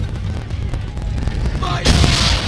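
Ship cannon fire in Assassin's Creed III during a naval battle, with a rumbling, crackling barrage that ends in one loud, broad blast near the end.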